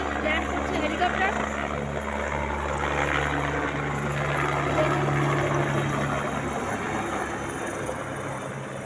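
A helicopter landing near a mountain Shiva shrine, a loud continuous rotor and engine roar with a steady throb that fills the scene, while someone talks over it.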